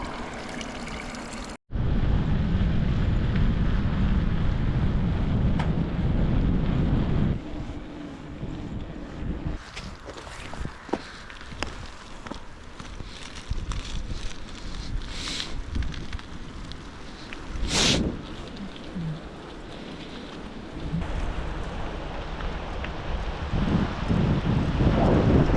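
The Tunja river flowing outdoors, a steady broad rush of water with wind buffeting the microphone, continuous throughout after a brief cut near the start.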